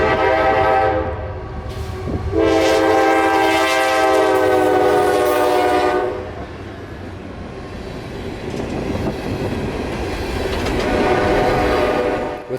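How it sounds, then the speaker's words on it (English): CSX freight train E319 of empty coal hoppers, led by two AC4400 locomotives, blows a loud sustained horn blast as it approaches, then rumbles past close by with rolling wheel noise and clatter. "With two classic AC 4400 motors on lead power for this train, E319 would be empty coal hoppers out of Cross, South Carolina"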